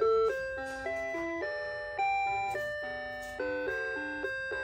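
Seiko wall clock chiming its hourly melody: a clear, bell-like tune of stepped notes with a few accented strikes, played loud and alone in a quiet room.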